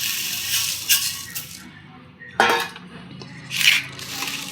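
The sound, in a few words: puffed rice (muri) being added to a bowl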